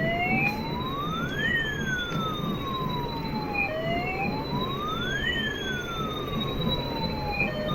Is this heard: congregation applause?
no